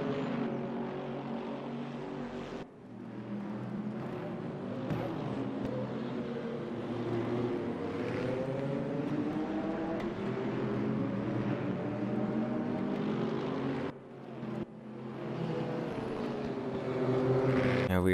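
GT1 race cars in RaceRoom, the racing game, circling Monza: a steady, continuous engine drone rising and falling in pitch as cars pass and shift gears, with brief drops in level.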